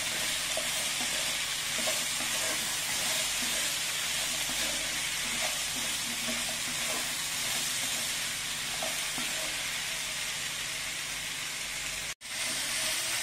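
Salt and red chili powder being stirred into sambar in a hot pan: a steady, loud sizzle and hiss with faint scraping of the spoon, continuous for the whole stretch with a brief cut near the end.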